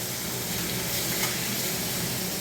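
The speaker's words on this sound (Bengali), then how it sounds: "এই যে মাছের মাথাটা ভেজে নিচ্ছি" A fish head fries in a pan with a loud, dense, continuous sizzle that stays steady throughout at close range, with no talk.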